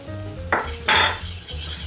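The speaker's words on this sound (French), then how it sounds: "c'est le moment de verser la polenta" Polenta poured into a pan of water and stirred, a bright hissing rush of grains then swishing and scraping against the pan, close and loud, with no talking.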